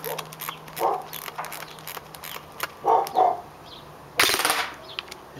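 An airsoft Noveske SBR electric gun fires short, sharp bursts of clicking shots in separate quick clusters, with quiet pauses between them.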